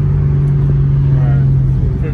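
An E92 BMW 328i merges onto a freeway with a steady, droning engine hum and road noise, loud and continuous inside the cabin for a couple of seconds.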